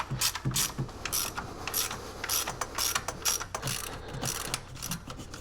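A ratchet clicks in quick bursts of pawl ticks, close and clear, as it backs out 10 mm bolts from a fuel injector rail.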